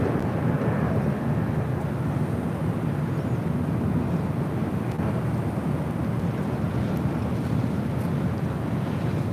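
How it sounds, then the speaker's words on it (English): A KLM Boeing Dreamliner taxis toward a north-side takeoff at LAX, its engines a steady, broad low roar mixed with wind buffeting the microphone, constant throughout with no voices. "you see KLM, the Dreamliner, now heading up here for a north side takeoff"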